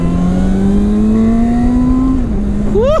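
A Honda VTEC motorcycle engine revs through a steady rising pitch, loud and close, with wind rush on a road ride. The note dips briefly, then climbs sharply again as the throttle opens.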